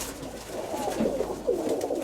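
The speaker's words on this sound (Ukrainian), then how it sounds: "Зараз я покажу вам голубку Сергія Івановича, яку я привіз." A dove cooing in a bird keeper's loft, soft low repeated coos close by against a quiet background, with no talking.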